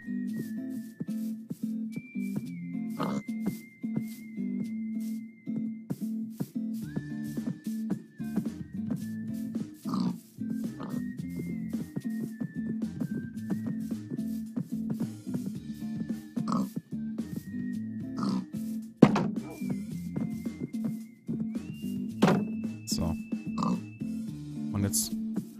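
Pig oinks from the video game Minecraft, short repeated grunts scattered over steady background music and continuous talking, with a few sharper sounds standing out.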